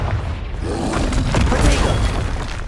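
A Confringo blasting curse in a Harry Potter wizarding game bursts out as a dense, shattering crash with a booming low rumble, swelling and holding loud across the whole moment.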